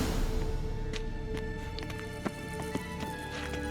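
Hooves of a horse named Kelpie in The Witcher 3, a quiet clopping rhythm under game music and ambience, with a couple of sharper hoof hits near the end.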